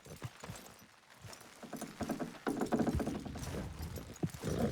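Horses pulling a wagon in Red Dead Redemption 2, hooves clip-clopping steadily with creaking wagon mechanisms, growing louder and busier partway through.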